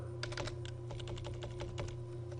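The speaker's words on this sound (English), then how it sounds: "So we have to type in squared." Quick bursts of keystrokes sound on a computer keyboard, a close, light run of plastic clicks in uneven rhythm over a steady low electrical hum.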